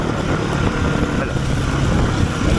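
A rally car on a roadbook-navigated rally stage accelerates hard, with a loud, continuous engine roar filling the cabin and no break throughout.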